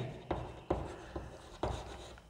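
Chalk or marker strokes on a classroom board during a biology lesson, four distinct taps and scrapes spaced irregularly, close and moderately loud with no voice over them.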